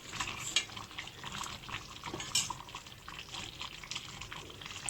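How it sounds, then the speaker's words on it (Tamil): Kavuni rice porridge with ground paste and a pinch of salt stirred in a pot so no lumps form, giving a soft continuous wet scraping and sloshing with light utensil clinks, close and steady, no talking. "ஒரு பிஞ்ச் உப்பு கட்டி இல்லாமல் கலந்து விட்டுக்கணும்"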